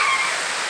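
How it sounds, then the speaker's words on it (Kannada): Rain falling outdoors as a steady, even hiss of broadband noise, with no voices during the brief moment. "ನೋಡಿ ಫ್ರೆಂಡ್ಸ್, ಮಳೆ ಬರಾಕತ್ತೈತಿ."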